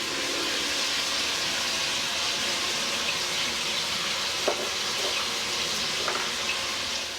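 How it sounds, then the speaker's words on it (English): Beef browning in a pot over medium-high heat gives a steady, dense sizzle throughout, with a few faint clinks of a spoon near the end, close up and without talk. "So we'll get this browned up and then we'll take it out."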